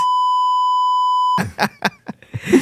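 A steady, pure electronic censor beep holds for over a second, then cuts off into a person talking.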